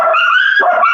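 Loose dogs bark and yip close by in a quick, loud tussle, with sharp overlapping barks and growly whines crowding into one brief burst.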